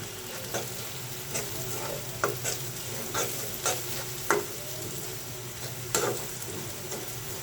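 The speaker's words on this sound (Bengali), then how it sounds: "পেঁয়াজটা ভাজা হয়ে গেছে, আমি এখানে 1 চামচ মরিচ দিয়ে দিলাম।" Onions and a spoonful of chili powder fry in oil in a home kitchen, a continuous sizzle broken by repeated scraping stirs, close by and moderately loud with no talk.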